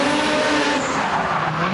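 A Nissan S15 and a Mazda RX-7 battle in a tandem drift at a Malaysian event, tires shrieking in a sustained loud squeal over roaring engines, close and continuous.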